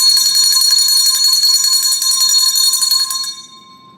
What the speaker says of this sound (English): That was that bell notification.